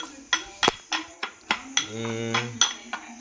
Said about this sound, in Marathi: लसूण वगैरे ठेचतोय पाहू शकताय लसूण ठेचतोय